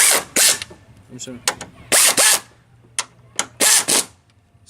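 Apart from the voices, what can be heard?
ratchet snugging up Chevy Impala front strut bolts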